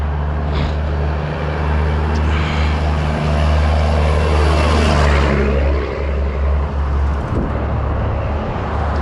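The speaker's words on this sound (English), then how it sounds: "I'll wait till this truck goes by so you can hear me." Heavy truck rolling past on a city street in Lewiston, Maine, a loud, steady low engine drone and tire rumble that swells and fades over several seconds, close by, with no talking.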